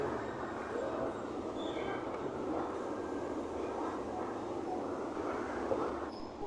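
A Bangalore metro train runs as a steady broadband rumble and rushing roar heard from inside, with faint wheel and track noise and no voices.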